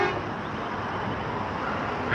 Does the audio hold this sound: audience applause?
no